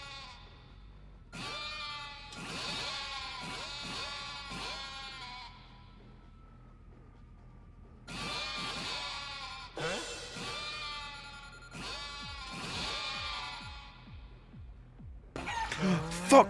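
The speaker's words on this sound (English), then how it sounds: "Why are sheep, what are sheep doing?" Sheep in the video game Yakuza: Like a Dragon give several bursts of wavering, repeated bleats, close and clear, broken by short quiet gaps and ending in a louder noisy burst.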